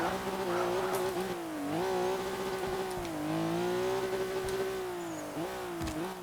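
A Porsche engine in Forza Motorsport 7 holding a high, sustained rev during a long wheelie, its pitch wavering up and down steadily, loud and close with no talk.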